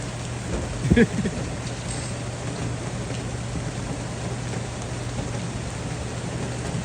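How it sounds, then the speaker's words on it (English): Dense, steady rain hisses throughout in San Francisco's Tenderloin, with a brief knock or clatter near the start under a faint electrical hum. "It's raining pretty hard in here, man."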